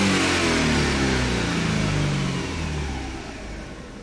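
A Hyundai Sonata engine runs close by with a steady drone that eases slightly in pitch and fades toward the end, with no voices.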